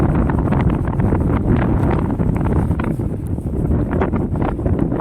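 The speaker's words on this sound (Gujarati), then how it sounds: "બહુ પવન છે" Strong wind roars steadily into the microphone by the Saraswati river near Siddhpur, a loud, constant buffeting rumble with gusty rustling throughout.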